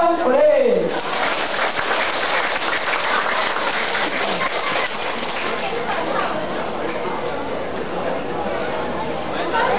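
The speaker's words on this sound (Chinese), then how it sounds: "掌声鼓励。" An audience applauds steadily for several seconds after a choir performance at a Mother's Day gathering at a temple in Guantian, Tainan, with a loud, even clatter of many hands and a brief voice at the start.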